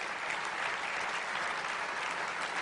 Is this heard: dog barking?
no